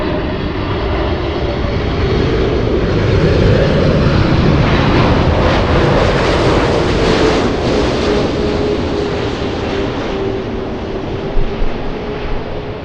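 A jet airliner rumbles at LAX airport in Los Angeles, a loud sustained engine roar that swells and then eases over about thirteen seconds, with no talking.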